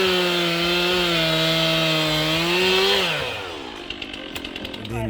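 Chainsaw felling a pine tree, running at steady high revs for about three seconds and then winding down, followed by faint crackling of wood and brush.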